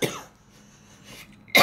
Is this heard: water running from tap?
no